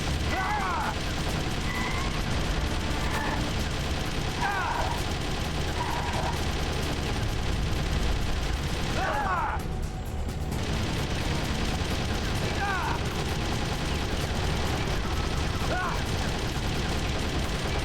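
Dense, continuous gunfire and mechanical battle noise from a firefight in Metal Gear Solid: The Twin Snakes, loud throughout, with short voice-like calls and effects cutting in at intervals and a brief dip in the din midway.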